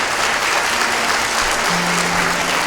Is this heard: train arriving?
no